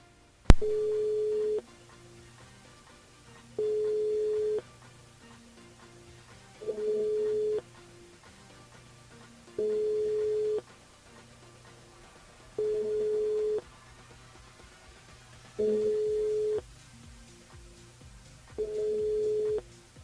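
A telephone busy signal on a French-language radio call-in show: regularly spaced, evenly pulsed tones repeat about seven times, clear and steady with no voices over them.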